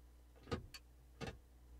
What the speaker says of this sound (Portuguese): Liguei sem querer aqui é o pisca do nosso carro